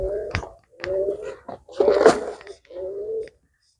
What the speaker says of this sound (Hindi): कबूतर सुबह दे बहुत शोर करदे पए ने